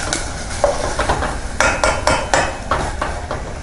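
Chicken is stir-fried in a pan for a Thai Isan chicken curry, with a spatula giving a string of sharp metallic clanks and scrapes against the pan, close and fairly loud.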